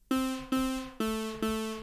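Synthesizer patch built from basic shapes in Vital with comb filter modulation: four buzzy, metallic plucked notes in even succession, bright and harmonically dense, each decaying quickly, close and alone.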